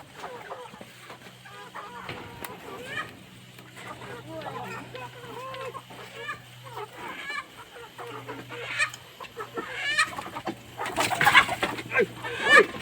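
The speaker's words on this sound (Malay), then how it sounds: "Ayam patuk kaki adik." Village chickens cluck and squawk close by in a busy, overlapping chorus that grows louder and more agitated toward the end, with people talking among them throughout.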